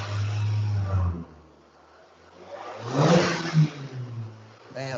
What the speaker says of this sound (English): Since we can kind of still hear Kevin, can you rev it up?